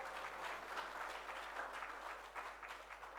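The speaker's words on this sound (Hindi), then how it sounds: "तालियां तो बड़ी जोर से बजा रहे" An audience at a Ram Katha religious discourse claps in a sustained, moderately loud wash of applause, a dense, even patter with no individual voices standing out.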